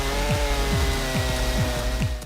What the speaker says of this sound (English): This chainsaw is truly a monster, with a cutting speed of about 20 meters per minute